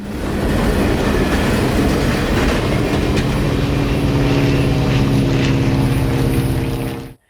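CSX freight train rolling past at close range, a loud sustained rumble of wheels and cars with a rhythmic clatter that runs unbroken for several seconds before cutting off abruptly.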